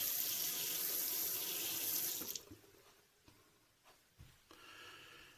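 A tap runs water to warm a razor blade, a steady close hiss that stops after about two seconds, followed by a few faint clinks and splashes.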